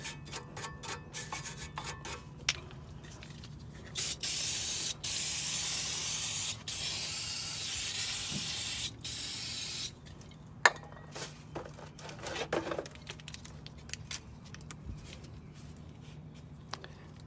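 Spray cleaner hisses onto the front brake of a 2008 BMW 535i in one long steady blast of several seconds, amid scattered clicks, taps and light rubbing sounds before and after.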